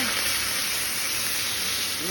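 Onions frying in a pan for a kudri-style snack give a steady broadband sizzle that continues evenly and moderately loud throughout, with no talking over it.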